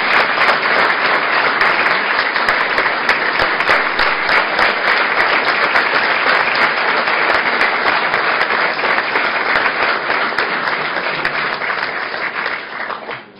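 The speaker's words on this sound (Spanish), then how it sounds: "Les invitamos a darles un gran aplauso por esta iniciativa." Sustained applause from the audience at a Chilean government public accounts ceremony, a dense, loud, steady wash of clapping lasting throughout and tapering slightly at the end.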